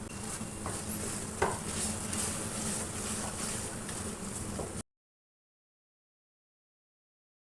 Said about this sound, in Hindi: अब थोड़ी 5 मिनट और भुनाई करूँगी और ये रेडी हो जाएंगे। अब ये हरी मिर्चें भी डाल दूँगी।